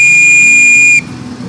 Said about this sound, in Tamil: அங்கேருந்து பதில் விசில் வரும்,